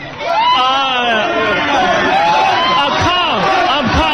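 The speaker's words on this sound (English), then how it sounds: "Crowd just drowning him out." Dense crowd babble with cheering and whoops at a basketball challenge event in Las Vegas swamps a speaker, continuous and loud throughout.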